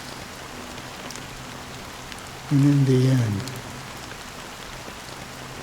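Game rain from Honkai: Star Rail falls as a soft, steady background hiss throughout, while a voice briefly speaks over it midway.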